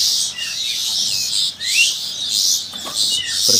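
Shrill, insistent cheeps from about two-week-old long-tailed shrike chicks calling in quick succession, close by, with faint squeaky rises between calls and no voices.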